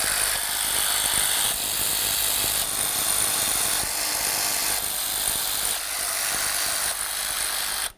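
A power tool whirs in repeated bursts while loosening the lower intake mounting bolts on a 5th-generation Dodge Grand Caravan, each run starting and stopping over a steady close drone, with no talking.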